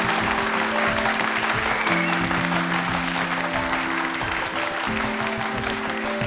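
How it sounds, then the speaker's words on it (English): An audience at a school gathering applauds the newly announced head girl, a dense, sustained clapping that stays loud and even throughout, with a faint tonal hum beneath. "Big round of applause, please, for Rebecca."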